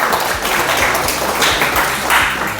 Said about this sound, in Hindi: तालियां तालियां।